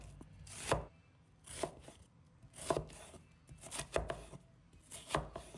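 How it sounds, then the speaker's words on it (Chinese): A kitchen knife chops onion into small dice on a board: a handful of crisp, close chops in an uneven rhythm, with quiet gaps between strokes and no talking. "适量的洋葱，把它切成小粒。"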